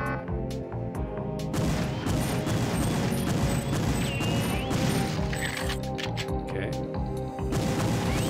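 Sniper rifle shots in the N64 shooter Perfect Dark, several sharp cracks scattered among game music and effects, with someone talking over them throughout.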